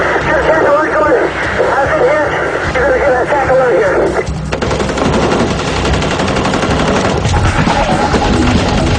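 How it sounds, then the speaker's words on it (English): Rapid bursts of automatic rifle fire firing armor-piercing rounds during a street shootout, loud and continuous with dense overlapping shots under a background of voices and radio-like chatter. "Armor-piercing bullets continue to rip into Sergeant Haynes' black and white"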